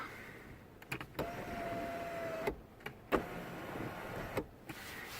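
A power sunroof on a 2018 Toyota Corolla LE closes automatically with a steady, quiet electric motor whine, broken by a few sharp clicks and clunks along the way, heard alone inside the car.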